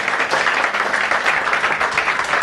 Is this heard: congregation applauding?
yes